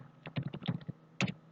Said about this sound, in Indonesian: seharusnya admin jaringan mengetikkan ipconfig